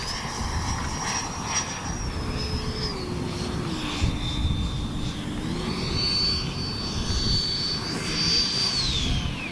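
A Freewing A-6 RC jet comes in to land across a runway in a crosswind, its ducted-fan whine sustained and loud, pitch sliding down and then rising again as it passes near.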